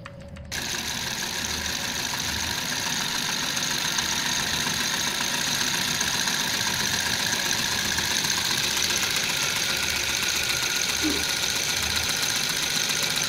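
A solenoid engine on a Nautilus model submarine runs steadily, a constant mechanical hum with a faint rapid knocking that stays even and close throughout, with no one talking over it.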